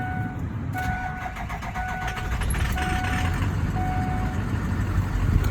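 A 2004 Ford F-250 Super Duty Power Stroke diesel truck engine cranks and catches, then settles into a steady rumbling idle, with a faint repeating electronic beep chiming over it. Five of its eight injectors are faulty.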